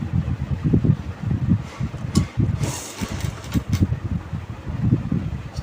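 A sewing machine stitches canvas pieces for a round neck in short stop-and-start runs, its motor whirring in repeated bursts with brief pauses between them. No one speaks.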